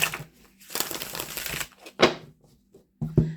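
Tarot cards riffle and slap together in bursts, with a longer shuffle followed by a few separate sharp flicks and taps, close up.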